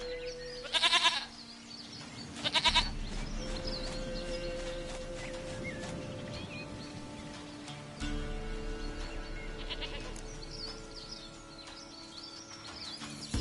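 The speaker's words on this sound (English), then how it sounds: "Goat of mine, dearest, sweetest goat." Goat bleating in the video game The Witcher 3: two loud, short bleats near the start and another pair around eight seconds, set over a steady ambient game soundscape with faint bird calls.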